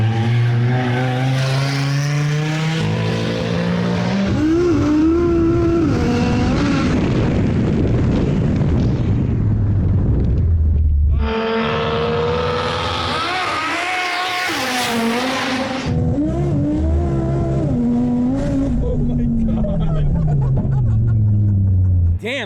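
A 1200-horsepower Audi RS3 race car revs hard, its engine roaring loudly in rising and falling sweeps with a harsh, explosive rumble, close by; people talk over it.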